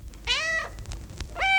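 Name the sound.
cat meowing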